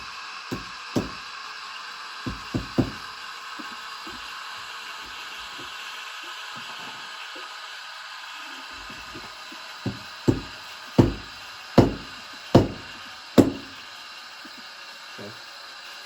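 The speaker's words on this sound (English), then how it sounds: "Few knocks, the coffee is pressed down very tightly" Several sharp knocks of a pressed coffee puck being banged out of the portafilter of a Breville Oracle BES980 espresso machine, a few scattered early raps then a louder run of five evenly spaced knocks, close and dry over faint room hum.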